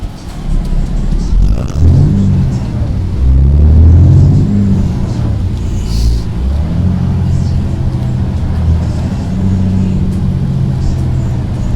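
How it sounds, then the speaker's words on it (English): Big truck engine in American Truck Simulator, a loud steady rumble that rises as it revs and accelerates near the start, then settles into a sustained drone with a voice talking over it. "Driving a big truck costs money"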